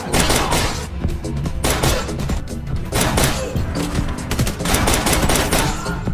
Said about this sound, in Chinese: 众人对小卡拉展开无差别射击